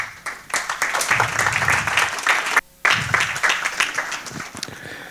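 Audience applause fills a conference hall to welcome a speaker for his lecture, steady dense clapping that breaks off briefly near the middle and then resumes at full strength.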